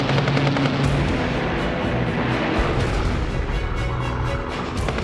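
Sustained battlefield din of heavy gunfire and booming artillery as a Japanese convoy comes under attack by aircraft, loud and continuous with dense overlapping blasts throughout.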